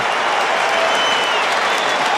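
A stadium crowd at an AFL qualifying final between Hawthorn and the Western Bulldogs roars and applauds in a dense, sustained wash of sound.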